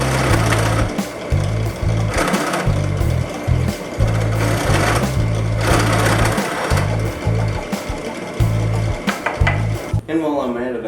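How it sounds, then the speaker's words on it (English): A drill fitted with a larger bit countersinks screw holes in cherry wood for light switch covers. It whirs loud and close in repeated short bursts, with a brief voice near the end. "I'm just going to countersink those screw holes just a little bit"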